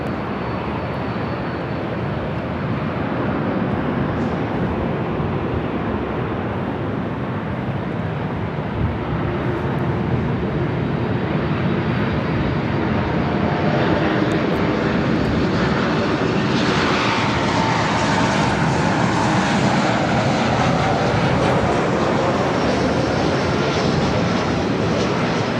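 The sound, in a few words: United Airlines Boeing 737 MAX 9 arriving at LAX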